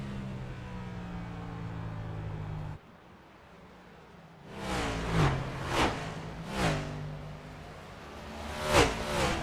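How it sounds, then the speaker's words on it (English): NASCAR next-gen stock cars racing around a short oval in iRacing: engines drone and swell as several cars whoosh past in repeated loud surges, separated by quieter engine hum. "We're going to listen to these cars, these beautiful next-gen engines on this short track here."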